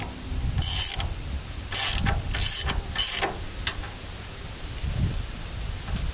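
Ratchet clicking in several quick bursts as bolts are tightened on the oil seal housing of a Howse brush hog, close and fairly loud, with short quiet gaps between strokes and no talking.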